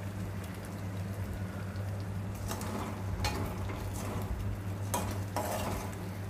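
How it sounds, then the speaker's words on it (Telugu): Utensil stirring an egg and potato mixture in a pan, with steady scraping and light frying crackle over a low hum, a few louder scrapes near the middle and end. "ఎగ్స్ వేసిన తర్వాత అలా మిక్స్ చేసుకోవాలి"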